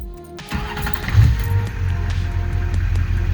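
A Duramax diesel pickup truck cranks and starts when the ignition key turns, a short quiet moment giving way to a rising engine roar that settles into a steady, close, rumbling idle.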